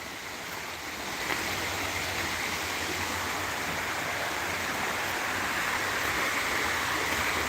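Steady, loud rush of creek water flowing over rocks, a continuous broadband wash that swells slightly after the first second and holds unbroken, with no voices.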